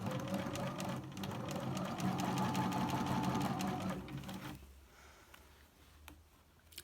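Sewing machine stitching a continuous curve on a bucket hat toile, joining crown to brim; a steady, close mechanical whir with rapid needle ticking that runs for about four seconds, then stops and leaves quiet room tone.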